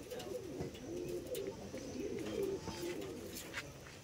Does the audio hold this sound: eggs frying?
no